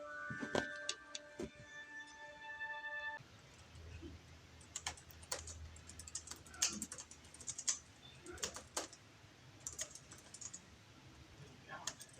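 Keys clatter on a computer keyboard as someone types out a scene of writing, irregular close clicks in uneven bursts with brief pauses, over a low room hum and a steady tone at the start.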